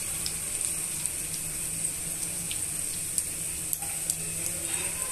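Beetroot pieces fry steadily in a pan, a continuous soft sizzle with a bright hiss and faint scattered crackles, close and even throughout.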